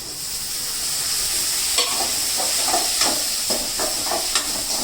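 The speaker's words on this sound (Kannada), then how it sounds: "ಈರುಳ್ಳಿ ಹಾಕೊಂಡ್ಮೇಲೆ ಆದಮೇಲೆ ಸ್ವಲ್ಪ ಟೊಮೆಟೊ ಹಾಕಬೇಕು." Onion and tomato frying in hot oil for chicken pepper dry produce a continuous close sizzle, with scattered clicks and scrapes of stirring throughout and no voices.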